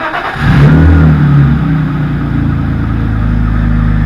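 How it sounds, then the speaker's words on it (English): A Nissan 240SX engine revs up loud and close, the note climbing and then settling into a steady, rumbling idle. "This is the first time they've actually heard this car run."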